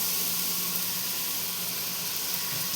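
Papaya pieces sizzle in hot oil seasoned with dried red chilli and bay leaf, a steady close hiss of frying that holds without a break and no voices over it.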